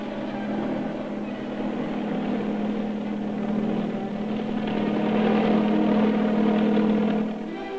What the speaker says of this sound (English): The helicopter from the Storis takes off to pick up mail ashore.